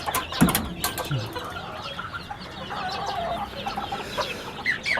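Hens and chicks cluck and chirp inside a multi-level chicken coop, with scattered short calls, a few sharp bursts and some rustling, close by and without talk.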